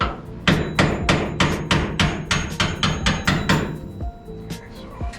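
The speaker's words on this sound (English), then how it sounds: "I use my slide hammer for pulling dents to pull just on that piece" A slide hammer pulls dents from sheet metal on the passenger side cab of a 1949 Jeep Willys pickup, a fast series of loud, close metallic clanks in steady rhythm, ending with a few lighter knocks and ringing.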